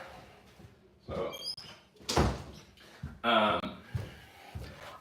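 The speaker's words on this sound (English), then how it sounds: "So I'm gonna shut the door for this." Someone shuts a door indoors, giving a couple of muffled thuds and a firmer closing bump amid faint room shuffling, with no voices.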